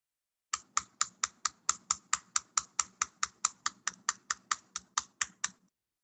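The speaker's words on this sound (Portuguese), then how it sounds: "Eu vou dando um Enter até ele criar uma outra folha." Around twenty evenly spaced key presses, Enter tapped repeatedly on a computer keyboard while working in Word, crisp and close with steady rhythm and no talk.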